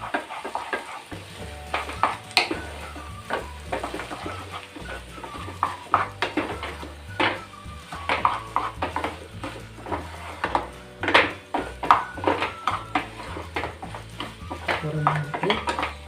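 A spoon stirs and mixes a wheat-flour snack mixture in a hot frying pan. Repeated scraping and clinking strokes sound over a continuous sizzle, with faint background music underneath.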